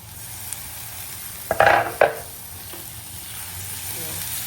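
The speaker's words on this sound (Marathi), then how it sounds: "आता आपल्याला टोमॅटो पण टाकायचा कारण की दोन्ही पण एकत्र शिजून घ्यायचं" Tomatoes drop into onions frying in a pan, setting off a loud burst of crackling sizzle with two quick clanks of a spoon. A steady, softer frying hiss continues before and after.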